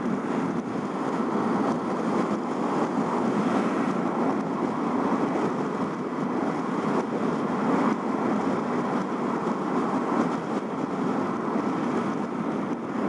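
Ocean waves at a beach in Caloundra, Australia, a constant broadband wash of surf with a faint windy rumble, steady and moderately loud for the whole stretch, no voices.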